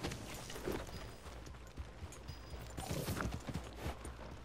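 Horse hooves clip-clop at a steady trotting rhythm in the video game Red Dead Redemption 2, fairly quiet and close, with faint background ambience and no talking.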